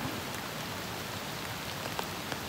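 Rain falling steadily outdoors during fishing, a soft, even hiss with a few faint drop patters, no voices.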